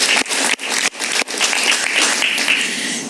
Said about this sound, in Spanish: Un aplauso para ella, muy bien.